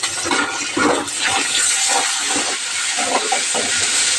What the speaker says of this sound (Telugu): దీంట్లో కట్ చేసి పెట్టుకున్న పచ్చిమిరపకాయ, ఆనియన్ మొత్తం దోరగా వేగనియాలి.